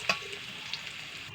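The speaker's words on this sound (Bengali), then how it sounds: "এখানে জিরে ফোড়ন" Cumin seeds and bay leaf crackle in hot oil, a brief close sizzle with a sharp tap of a utensil at the start, and no talking.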